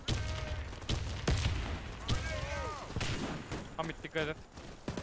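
Shots crack from a Valorant-style tactical shooter during a tournament round, several sharp bursts scattered across the moment, with team voice chat talking over and between them.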